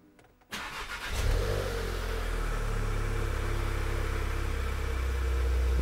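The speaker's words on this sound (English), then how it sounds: "I'm gonna need to hit the brake to start it" A 2017-era VW Golf GTI MK7 engine cranks and fires after an oil change, close by. A short starter whir flares into a rising catch, then it settles into a steady, low idle hum.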